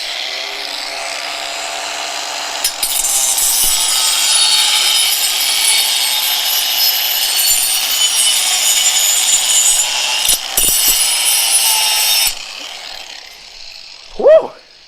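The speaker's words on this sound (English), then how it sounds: "We're going to run this grinder." A handheld angle grinder cuts a thin steel plate clenched between someone's teeth, a loud, steady high-pitched grinding whine lasting about twelve seconds with a brief dip near the end, then cutting off abruptly before a short shout.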